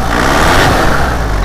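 A car engine at a used-car dealership revs hard and close, a steady loud roar filling the whole moment with no talk over it.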